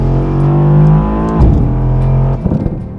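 A Mercedes S63 AMG engine pulls hard on a race track, a loud rising harmonic roar that climbs, breaks at two quick gear shifts with crackles, then resumes its drone.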